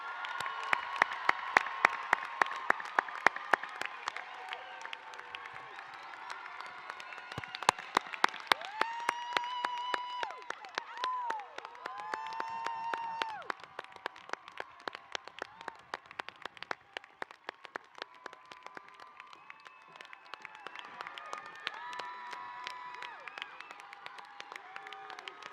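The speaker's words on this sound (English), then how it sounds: "Let's give these group of graduates one more round of applause." Sustained applause from a graduation ceremony audience for veterinary medicine graduates, dense crowd clapping with scattered cheers and whoops rolling on for a long stretch, moderately distant.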